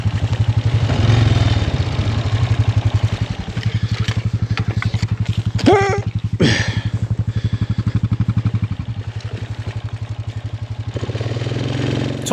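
A mini jeep's small engine chugs steadily off-road with a fast, even low-pitched pulsing throb, loud and close, with rattling and clatter over rough ground and a brief rise in pitch midway.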